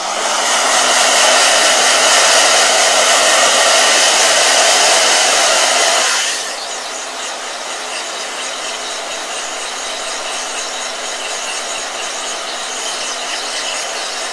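A blow dryer runs loud and constant, its whirring roar dropping to a lower, softer setting about halfway through and holding steady to the end.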